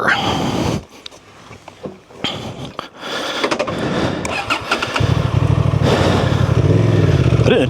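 A 2024 Honda Transalp 750 motorcycle on an off-road OHV trail revs and rumbles, dipping briefly before a steady loud engine drone builds, with wind buffeting and a voice speaking over it.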